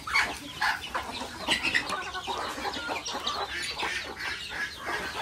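Free-range farm chickens cluck and chatter close by in a busy flock, with overlapping bursts of calls throughout and occasional wing flaps.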